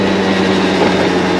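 Exhaust note from the muffler of an early Honda Live Dio ZX scooter, a steady close-up engine drone at constant revs with a low, even hum and no talking.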